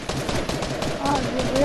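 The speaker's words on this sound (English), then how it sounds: "Where am I getting shot from?" Gunfire in Fortnite crackles in quick rapid bursts close by, a dense stream of shots running throughout, with a faint voice underneath.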